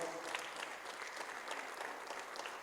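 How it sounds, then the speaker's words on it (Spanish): A church congregation applauds during a sermon, a steady wash of clapping heard fairly faint and distant, with no voices over it. "Dele un aplauso al Rey que vive en esta hora."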